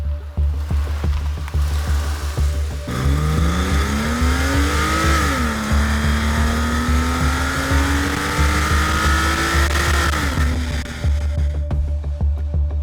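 A Porsche 911 of the 996 generation with its naturally aspirated 3.4-litre M96 flat-six revs loudly and up close, the pitch climbing, holding high, then dropping back to idle, with no talk over it.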